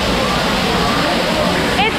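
Continuous rushing water fills the scene like a nearby waterfall, with a brief high chirpy sound near the end, heard while queuing for the Rise of the Resistance theme park ride.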